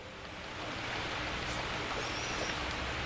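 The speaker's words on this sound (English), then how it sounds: "That magical, like, water sound is just, like, so dramatic." A shimmering, rushing magical water sound in the Prince of Persia video game, a steady soft wash of noise that swells slightly and then holds, with no talk.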